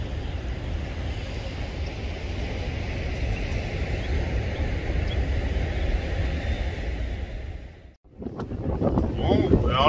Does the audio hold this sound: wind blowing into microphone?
yes